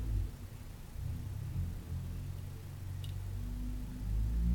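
Cars pass along a residential street some distance away, a faint low rumble swelling and fading as vehicles speed by, with one louder surge building at the end.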